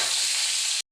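Ginger fries in a pan with a bright, dense sizzle, close and loud, lasting about a second before it stops abruptly.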